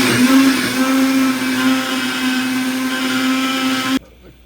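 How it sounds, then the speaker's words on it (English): A countertop blender whirs steadily while blending tamale ingredients, loud and close with a constant motor hum, then cuts off abruptly near the end, leaving faint room noise. "I'm about to throw this in the blender."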